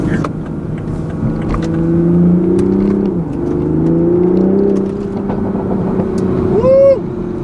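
A 2020 Toyota GR Supra engine accelerates hard in second gear, a loud, steady drone whose pitch climbs in sweeps, dips briefly midway, then rises again and ends in a sharp whine.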